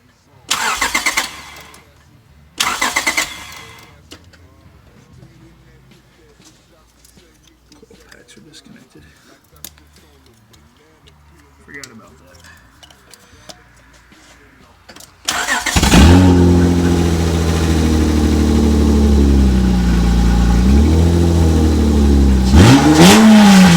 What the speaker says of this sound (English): when you start this thing up, it sounds like a truck since there's no cat on it